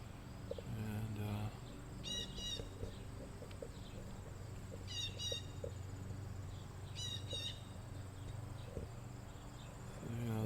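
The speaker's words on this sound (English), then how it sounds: "there's a bird talking to us up there" Crickets chirp steadily in a Michigan garden beside a tree while a bird calls in repeated bursts from the branches above, moderately near, with a low background hum.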